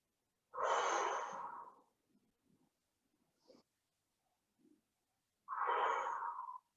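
Two long, close breaths out during a shoulder, chest and upper back stretching exercise, separated by a quiet pause with faint small rustles.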